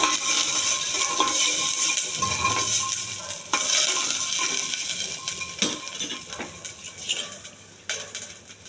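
Peeled garlic cloves sizzling and frying in a pan, a steady loud hiss with scattered clinks and scraping stirs, close and alone without any talk.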